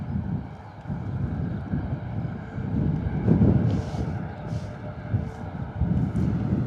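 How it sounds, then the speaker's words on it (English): An EasyJet Airbus A320neo departs Bristol Airport, a low broad jet roar rumbling at a distance under gusty wind noise on the microphone, swelling slightly midway. "we're going to say goodbye to that 320neo EasyJet"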